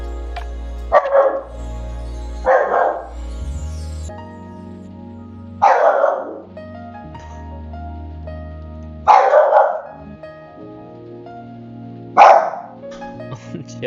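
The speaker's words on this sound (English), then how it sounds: "my tool to cancel the noise doesn't cancel my dogs" Dogs bark indoors in five separate loud bursts spaced a few seconds apart, sharp and close, with a steady low hum between them.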